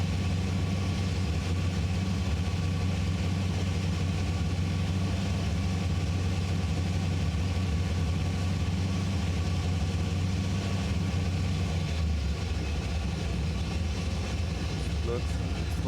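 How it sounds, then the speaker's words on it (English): A Datsun car engine idles with a steady low rumble at close range, even and unbroken, while a person talks over it. "Definitely idling better."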